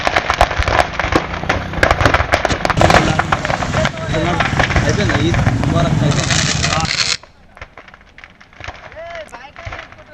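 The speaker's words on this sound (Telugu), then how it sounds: "కొన్ని నిమిషాల పాటు ఆగకుండా టపాసులు పేలిన శబ్దాలు" Firecrackers bursting nonstop from a burning lorry of fireworks after it struck high-tension wires, dense rapid crackling pops that suddenly drop to sparse distant bangs, with voices heard among them.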